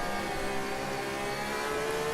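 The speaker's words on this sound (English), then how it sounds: "You can really hear that engine scream." A GT racing car engine screams at high revs at Donington Park in a GT2/GT4 multiclass race, a loud, sustained whine close by with steady pitch and no talk.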